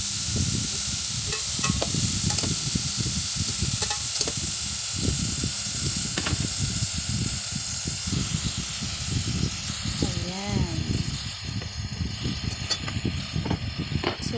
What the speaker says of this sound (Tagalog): So, igigisa natin siya ng konti.